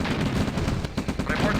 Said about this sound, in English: Need to address these tanks with our own ones, as they've got machine guns mounted on them.